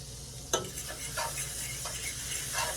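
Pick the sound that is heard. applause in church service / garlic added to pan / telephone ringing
garlic added to pan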